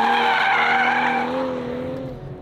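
A 2023 BMW M340i in Sport Plus with stability control off slides its rear end around a cone in second gear, its tires letting out a loud, sustained squeal that slowly fades over a couple of seconds under engine noise.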